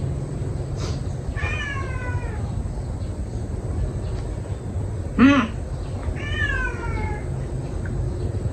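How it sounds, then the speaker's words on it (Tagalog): Hungry house cats meowing to be fed, several drawn-out, wavering calls spaced a few seconds apart, rising and falling in pitch over a low steady background hum. "Kulit ng mga pusa namin. Gusto na talaga sila pang unahin pakainin."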